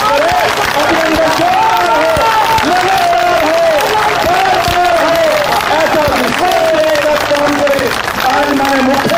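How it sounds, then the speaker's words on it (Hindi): Crowd at a political rally in Haryana claps and cheers loudly, continuous dense applause with whoops and chatter while a voice speaks over the noise. "सभी जोरदार तालियां बजाकर अभिनंदन"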